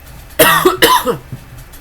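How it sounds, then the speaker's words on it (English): Two sharp, harsh coughs in quick succession, close and loud, followed by a faint third cough trailing off. "I had a coughing fit."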